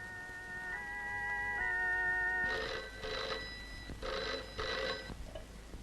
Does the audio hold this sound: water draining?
no